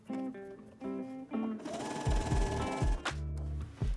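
A sewing machine stitches a French seam down the side seam of a bias-cut skirt, its motor running in loud, close bursts with brief pauses and rapid mechanical clatter, no voices over it.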